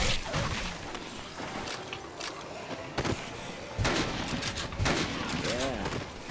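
Gunfire rings out in the Dead Rising video game, loud shots and bursts crackling over continuous in-game noise and a busy background, with someone talking at times.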